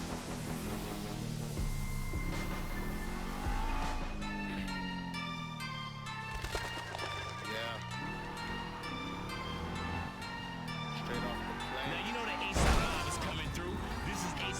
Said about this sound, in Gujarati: એમ ગાડીઓ બધી અથડાઈ અથડાઈને બગાડી નાખે.